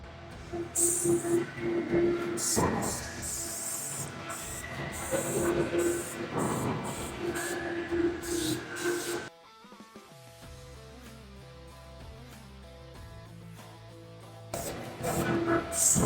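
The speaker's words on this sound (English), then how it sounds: "we're just going to go ahead and start spraying everything else." Repeated bursts of hissing spray as Fluid Film rust-proofing fluid is sprayed under a Toyota Land Cruiser, short pulses up close alternating with pauses, against a mechanical background hum.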